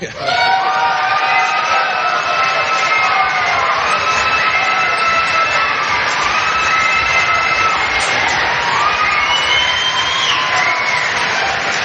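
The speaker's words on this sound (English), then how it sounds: "The applause so loud here in the hall." A packed hall at a New Hampshire Republican presidential debate erupts in loud, sustained applause and cheering that roars steadily for the whole stretch, with voices shouting over it and no quiet gaps.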